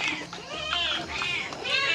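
Several cats meow repeatedly with high, wavering calls, fairly loud and close, overlapping with people talking and general outdoor background noise.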